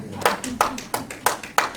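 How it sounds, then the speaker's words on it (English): Sharp, evenly spaced handclaps, about seven of them in a quick steady rhythm, sound close and clear at a church service, with a faint low voice or murmur underneath. "Can give her a round of applause."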